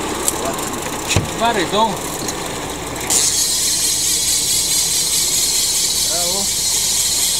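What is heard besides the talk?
boat engine running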